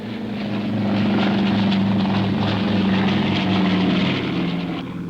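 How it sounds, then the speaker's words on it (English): Blackburn Beverley transport aircraft taking off in 1959, its propeller engines giving a loud, steady droning roar with a strong low hum that swells through the middle and eases slightly at the end. "A Blackburn Beverley is signalled OK for takeoff"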